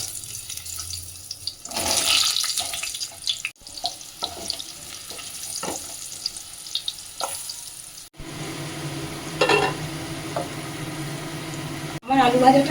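Potatoes fry in hot oil with a little turmeric for a Bengali chicken kosha, a steady sizzle with sharp clicks and clatter, swelling louder as more goes into the pan near the end, with a voice speaking at times.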